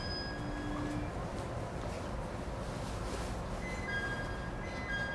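Echigo TOKImeki Railway ET127 series electric train with Toyo GTO-VVVF traction running between Arai and Naoetsu, a steady interior rumble of wheels and motor with faint whining tones rising and falling throughout.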